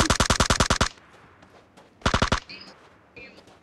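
Automatic gunfire in the video game PUBG: a rapid burst of about ten loud, evenly spaced shots, a pause with faint shots, then a shorter burst of five or six shots, with brief voice fragments in between.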